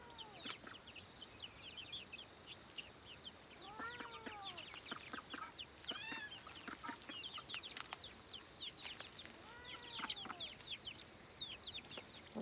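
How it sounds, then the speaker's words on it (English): A rooster from a backyard flock of chickens crows three times in rising-and-falling calls, with other birds chirping and clucking around it outdoors and no one talking. "That's a rooster."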